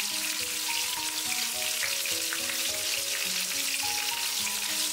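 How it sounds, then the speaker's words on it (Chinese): Pork rolls wrapped with Chinese chives pan-frying on low heat, a steady continuous sizzle and crackle of oil that holds even throughout, with no voices. "小火慢慢的煎。"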